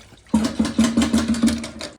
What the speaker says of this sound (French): Puis, tirez la chasse d'eau pour vider complètement le réservoir de WC.